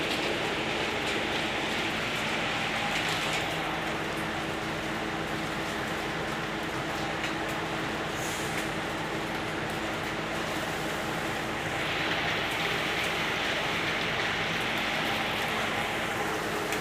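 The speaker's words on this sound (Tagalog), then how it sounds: "maulan na Sabado guys" Steady rain pours down on a wet Saturday afternoon, a constant dense hiss filling the whole stretch with no breaks, heard from under a sheltered spot.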